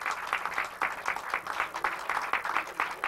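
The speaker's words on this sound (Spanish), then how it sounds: "yo quiero que le demos un aplauso fuerte al grupo H" Audience applause at a record fair in Santiago, Chile, for a VHS documentary launch: steady dense clapping from a moderately distant crowd, continuous with no voices over it.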